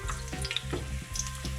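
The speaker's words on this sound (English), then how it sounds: "I'm gonna show you when we start frying this" Sliced courgettes fry in a pan in a steady, crackling sizzle with small pops, close and fairly quiet, with no voices.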